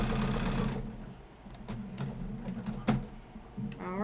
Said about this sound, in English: We just have to sew across the other seams